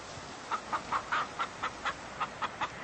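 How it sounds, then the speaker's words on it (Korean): Hens cluck in a short series of about ten evenly spaced, moderately close calls, a farmyard sound effect in an audiobook. "암탉들이 조금 술렁대는가 했더니 이내 잠잠해졌다"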